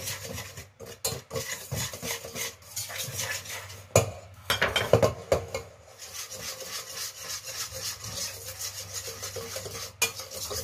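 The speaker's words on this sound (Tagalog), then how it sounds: "Ihalo muna natin siya." Egg being mixed into chocolate cake batter in a bowl, with continuous close scraping and stirring strokes at a steady, busy rhythm and a few sharper knocks of the utensil against the bowl.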